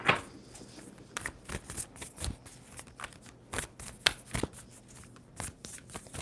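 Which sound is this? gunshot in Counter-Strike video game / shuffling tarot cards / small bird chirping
shuffling tarot cards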